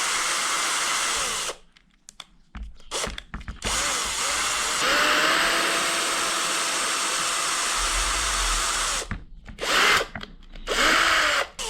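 A power drill pre-drills screw holes in wood for a DIY rally controller build, whining loud and close in long sustained runs broken by short pauses and quick bursts.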